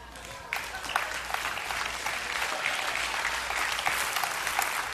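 A church congregation at a Sunday sermon bursts into steady, dense applause about half a second in, and the clapping carries on evenly, close and full, to the end.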